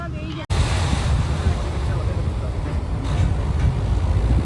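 Strong, steady wind pours through an open window of a moving bus, a dense, close roar that stays loud after a brief cut near the start.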